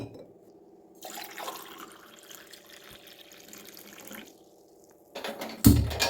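Tap water runs steadily into a basin being filled, a soft continuous rush that swells into a louder, closer splash near the end, with no voices.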